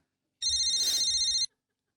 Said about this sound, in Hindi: एक मिनट, फोन आ गया।